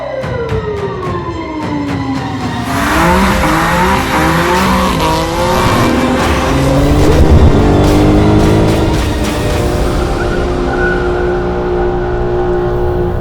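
BMW M4 in a driving video game revving and accelerating hard, the engine pitch sweeping up through gears while tires squeal and skid loudly in the middle, close and dominant with no talk.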